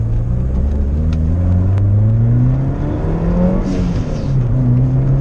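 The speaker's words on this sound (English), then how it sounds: "This car makes some amazing sounds." A Mitsubishi Evo 3 with a big turbo running on ethanol revs hard up and down, a loud, close engine note rising and falling in repeated pulls.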